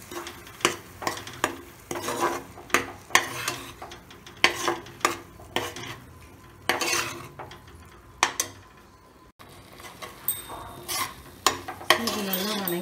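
A spoon scrapes and stirs ground paste through a mushroom biryani pot, with repeated rhythmic clinks and scrapes against the metal over a faint sizzle, close and moderately loud.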